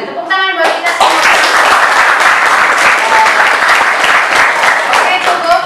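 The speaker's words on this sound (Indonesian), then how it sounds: "tepuk tangan buat kita semua" Students in a classroom break into loud, energetic clapping right after a short spoken line, many close hands slapping in a fast, even stream that carries on for several seconds.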